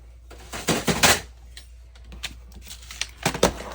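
A paper cutter slices paper for a journal tag in a series of close, crisp scraping and clicking strokes, with bursts near the start and end and lighter ticks between.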